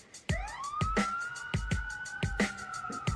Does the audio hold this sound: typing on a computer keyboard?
no